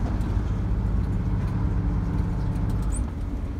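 Old GM 4104 bus engine on the move, a steady low rumbling drone from inside the coach, fairly quiet and continuous with no talk.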